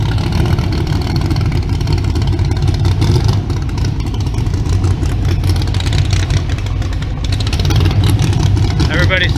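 A drag car at a street car show idles and revs loudly with a deep, continuous engine rumble, close and steady throughout amid outdoor crowd noise.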